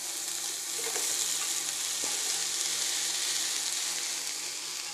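Leeks and Brussels sprouts sizzle in a hot pan, a dense, steady frying hiss with faint crackles, close and continuous, with one brief clink partway through.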